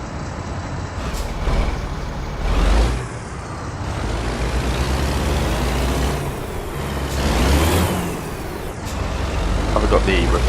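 Truck engine firing up in American Truck Simulator: a rumbling diesel idle with air-brake hisses and swelling revs, loud and continuous throughout.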